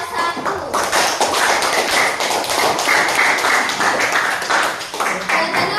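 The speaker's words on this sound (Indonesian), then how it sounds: "Beri tepuk tangan untuk kelompok 1." A classroom of students clapping together for a group after a teaching practice session; dense, steady applause-like patter fills the whole span at close range, with faint voices mixed in.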